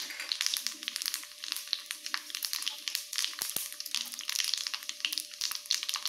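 Whole spices (nigella seeds, fennel, mustard seeds and fenugreek) crackle and pop in hot ghee. The sound is a quiet, busy patter of small sharp snaps with a soft sizzle underneath.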